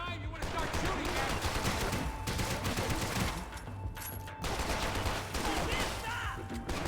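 Sustained heavy gunfire from the video game Max Payne 3 keeps up a dense, loud barrage of rapid automatic bursts with only brief dips. Voices talk over the shooting.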